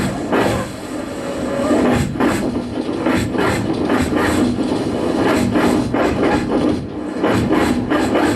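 Vocal imitation of three trains passing at once at a short film awards event: dense, overlapping rhythmic chuffs and rasping clacks over a continuous rumble, loud and close, with no talking.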